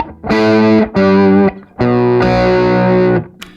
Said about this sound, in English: So that was the treble pickup in humbucking and the bass pickup in single coil.